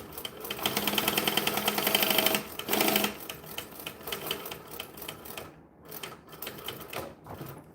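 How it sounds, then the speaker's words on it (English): Sewing machine back stitching on a bag, close and rapid needle clatter in steady runs, louder at first, then slower, broken bursts with short pauses. "Nice and slow back stitching so I don't give myself grief."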